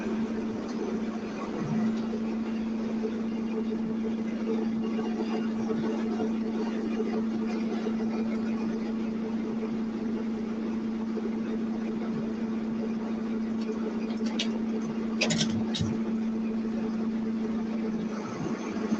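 A farm tractor engine running in a field on a cool day, a constant low droning hum that holds steady throughout, with a few brief clatters and knocks near the end.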